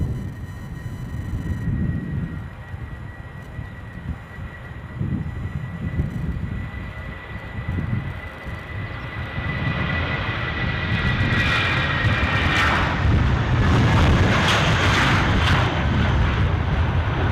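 An airliner taking off at Edinburgh Airport starts as a distant, uneven rumble and then builds into a loud, sustained jet roar that holds through the second half.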